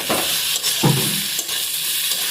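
Spices sizzle and fry loudly in a pan over high gas heat, a steady close hiss with a few stirring scrapes and bursts, no talk.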